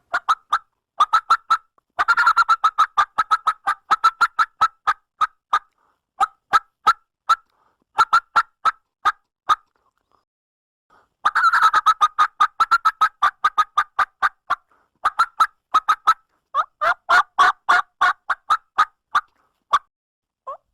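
Sharp, rapid cutting notes of a wild turkey hen imitated on a wooden box call for turkey hunting, loud and close, delivered in two long excited bursts with short pauses and no talking.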